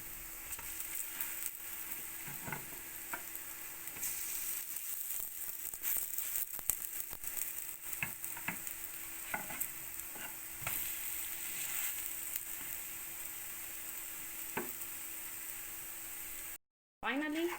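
Turnip fritters fry in a pan with a soft, steady sizzle, close but quiet, broken by occasional light clicks and scrapes of stirring.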